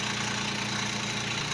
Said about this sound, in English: The fan's actually starting now as it's idling.